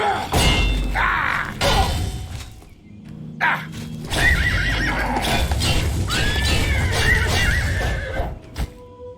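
A horse in The Elder Scrolls IV Oblivion whinnies and neighs amid thuds, hoof clops and combat clatter, several close, loud calls rising and falling over a busy in-game scene with a voice briefly heard.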